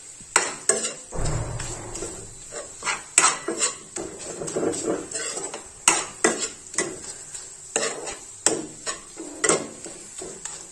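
Potato halwa fries in ghee while a spoon stirs it, making repeated sharp metallic scrapes and clanks against the pan over a faint sizzle, with no talking.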